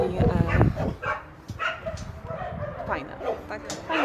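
Several dogs at an animal shelter bark, yip and whimper in a busy overlapping chorus, some close and loud, others further off, while a person talks over them.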